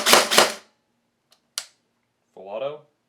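A G&G Combat Machine airsoft gun on a Tenergy 11.1 volt LiPo battery fires two sharp, close semi-auto shots in quick succession, then a fainter single crack after a pause, followed by someone speaking briefly.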